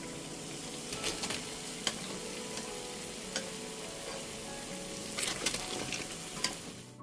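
Vegetable fritters (bakwan) deep-frying in hot oil, giving a steady, dense crackling sizzle with occasional sharper pops, close up and alone with no talking.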